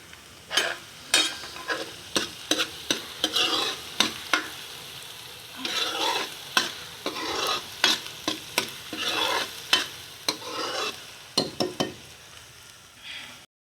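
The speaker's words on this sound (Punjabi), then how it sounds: "ਕਿੰਨਾ ਸੋਹਣਾ ਤੜਕਾ ਭੁੱਜਿਆ ਹੈ" Garlic, green chillies and coriander crackle in hot oil as a tadka, with repeated bursts of stirring and scraping over a steady sizzle, close and fairly loud, no voices.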